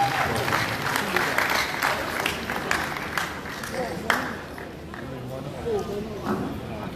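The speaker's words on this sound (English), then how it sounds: "Please, a round of applause for him as he comes." At a university town hall meeting, an audience claps loudly for a speaker walking up, with crowd voices mixed in; the applause fades after a few seconds into scattered murmuring and talk.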